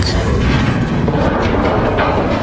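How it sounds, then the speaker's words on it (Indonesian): A loud, sustained roaring blast of a car exploding, with heavy rumbling low end and crackling fire noise throughout, no voices. "lalu menyulut api hingga meledak untuk memancing perhatian Mick"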